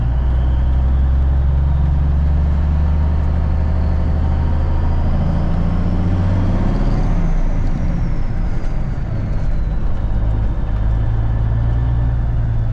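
A rebuilt Cummins 444 diesel in an International Eagle truck rumbles loudly and steadily as it pulls away, its deep engine drone building with a whine over the low growl.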